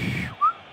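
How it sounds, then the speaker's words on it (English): A person tries to whistle and manages only a faint breathy tone, then a brief thin whistle note that cuts off quickly. "I don't know how to whistle"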